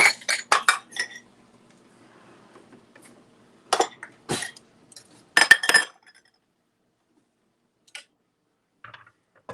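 Glass jars are packed with cucumbers and onions for pickling at a cooking class: clusters of sharp clinks and knocks come in short bursts, separated by long quiet pauses and a few faint later taps.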